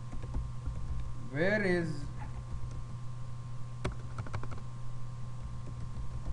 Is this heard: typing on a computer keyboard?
yes